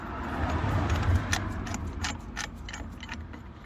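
A hand tool presses the brake caliper piston back on a Citroen Berlingo 1.9D Mk1, making quiet close mechanical clicking and grinding with a few sharp ticks.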